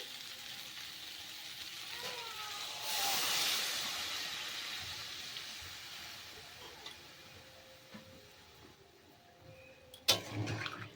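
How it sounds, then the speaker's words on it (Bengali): Water poured into sautéed vegetables in a pan sets off a loud hissing rush of steam that swells, then fades to a low sizzle, followed late by a sharp clank of utensil; close, no talk. "এখন এর ভেতরে আমি দিয়ে দেব জল"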